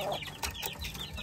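Young game-farm chicks from AC Game Farm in Aloguinsan chirp and peep in a steady, close cluster of high calls throughout, with no talking.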